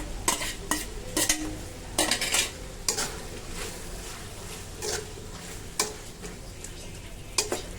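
Beef tripe, already fried in spices, is stirred and sautéed with chopped tomato in a pan, giving a steady sizzle under repeated clinks and scrapes of a utensil against the metal, close and fairly loud, without talking.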